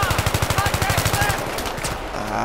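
Rapid automatic gunfire in the video game Battlefield 3, a dense burst of evenly spaced shots that trails off after about a second and a half into a duller rumble.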